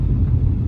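Road traffic rumbles past with cars moving along the road, a dense, loud, low roar that fills the whole moment without pause.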